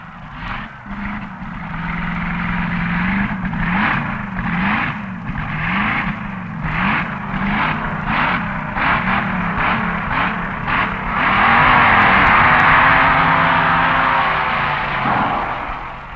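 Several 1961 NHRA Winternationals dragsters rumble and rev at the start line before a class elimination run, a loud, steady engine drone with rhythmic throttle blips that swells into a heavier roar near the end.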